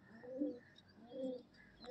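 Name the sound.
Rampuri pigeons cooing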